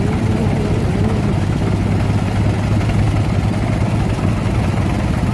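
A Case DC tractor with dual rear wheels runs close by, its engine giving a loud, steady low chug that holds without break, with a faint wash of outdoor noise behind it.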